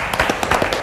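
A group of people clapping together in the Big Brother house: a short burst of close, loud, fairly even applause with rapid overlapping claps and no voices.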